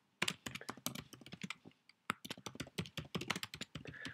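Fast typing on a computer keyboard to enter a title, a close run of crisp key clicks with a brief pause around the middle.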